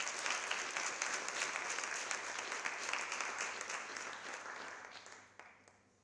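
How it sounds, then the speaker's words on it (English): Conference audience applauding the closing panel, a dense, even patter of many hands that holds steady before tapering off over the final second. "A lovely round of applause for our final panel"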